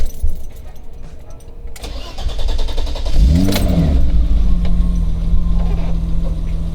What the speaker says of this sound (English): Got a little straight six action going